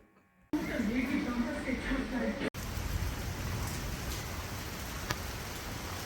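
Steady rain hiss fills the clip after a quiet start, with a brief dropout midway and occasional drops tapping nearby.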